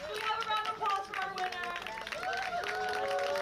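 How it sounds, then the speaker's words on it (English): Crowd applause at a Kitchener Panthers vs. Welland Jackfish baseball game for a contest winner: a steady wash of clapping under an announcer's amplified voice. "Do we have a round of applause for our"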